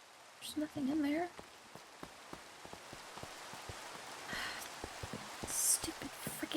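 In Minecraft, rain patters as a quiet, constant hiss with irregular ticking drops, and a brief vocal sound occurs near the start.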